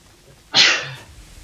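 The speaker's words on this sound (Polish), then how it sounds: "zamęczy mnie to kichanie" One sharp, close sneeze from a man bursts out suddenly and fades quickly into quiet room sound.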